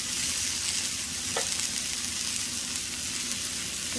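Butter sizzles quietly under green beans and mushrooms in a pan, a steady soft frying hiss with no voices.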